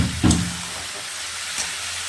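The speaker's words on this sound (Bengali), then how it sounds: "এবার আমাকে কাবলি ছোলার সাথে এই মশলাগুলোকে ভালো করে একটু কষিয়ে নিতে লাগবে।" Spices sautéing with kabuli chickpeas in a pan give a steady, close sizzle, broken by a couple of brief stirring scrapes.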